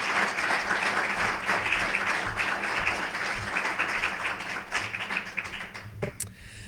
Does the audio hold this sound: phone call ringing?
no